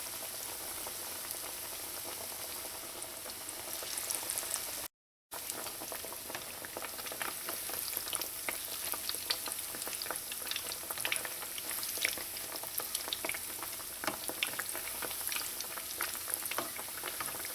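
Trini kachourie frying in oil over medium heat, a dense, even bubbling crackle with many fine pops, fairly quiet and continuous apart from a brief break near the start.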